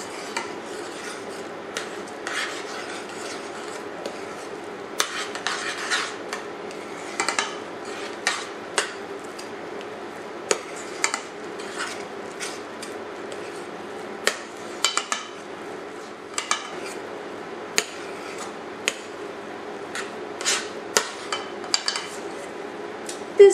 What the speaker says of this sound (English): Using a spoon, stir the cornmeal mixture until it thickens.